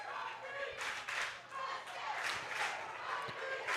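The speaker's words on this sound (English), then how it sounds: "If you heard the crowd, that was for the Rock Creek girls softball team walking through" A crowd at a Kansas Class 4A high school baseball state championship greets the Rock Creek girls softball team walking through, with faint, distant bursts of cheering and scattered clapping rising and falling under a quiet background.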